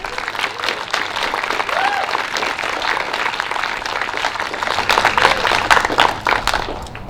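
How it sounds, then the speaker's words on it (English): Wedding guests break into sustained applause after a toast, a dense wash of clapping from a crowded room that swells toward the end, with faint voices mixed in. "I think they need a round of applause."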